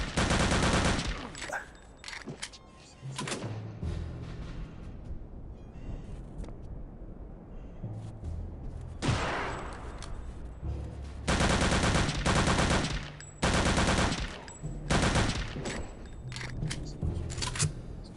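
Rapid gunfire in the Wolfenstein VR video game, with loud bursts of automatic fire and repeated shots in clusters separated by quieter gaps across the stretch.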